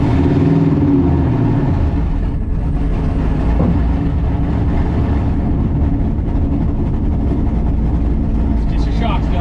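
Turbocharged LS-swapped Chevrolet Silverado pickup with a T56 manual, out on its first drive: a loud, steady engine drone and road rumble fill the cabin throughout, with voices talking over it.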